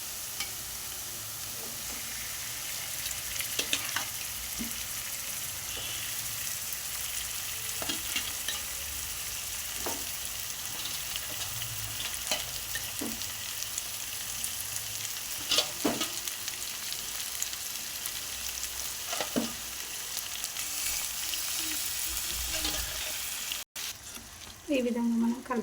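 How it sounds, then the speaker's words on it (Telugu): Fish dropped into a pan of onions fried golden, for a tamarind fish curry, sizzling and frying steadily with scattered stirring clicks and scrapes throughout, moderately close. "ఉల్లిగడ్డలు ఈ విధంగా గోల్డ్ కలర్ వచ్చిన తర్వాత ఇందాక మనం కలిపి పెట్టుకున్న ఫిష్ వేయాలి."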